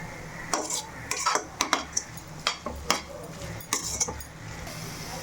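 Mushrooms being sautéed on low heat in a pan for a mushroom kurma, with a spoon repeatedly clinking and scraping against the metal in quick, irregular strokes, close by and without speech.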